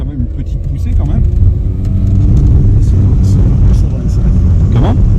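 Vintage car at a classic car gathering in Clermont-l'Hérault pulling away under light throttle, a steady close engine rumble that builds slightly, with people talking over it.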